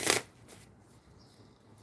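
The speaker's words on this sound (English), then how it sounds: "I am going to shuffle, and then we will do your tarot spread" Tarot cards riffle in one quick, crisp burst up close, followed by a few faint soft slides and near silence.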